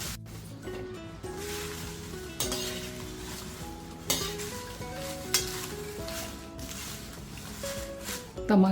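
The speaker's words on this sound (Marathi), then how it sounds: "तीस ग्रॅम तमालपत्र कोरडेच भाजून घेते" Bay leaves dry-roasted in a pan for a red chilli spice masala give a dry rustling, scraping sound as they are stirred, with occasional spoon clinks against the pan and a steady low background hum.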